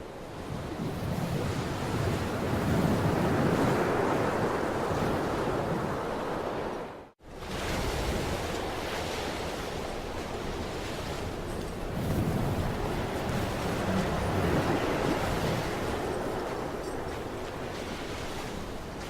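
Ocean waves and wind roll steadily in Dear Esther, a broad continuous wash of surf and gusting air with slow swells, briefly cutting out to near silence midway before resuming.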